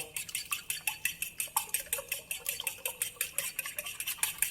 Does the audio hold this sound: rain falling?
no